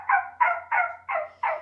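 A person's voice imitates a puppy's night-time yipping: five evenly spaced, nasal, whining calls, each about a quarter-second long, delivered close and clear with short gaps between them.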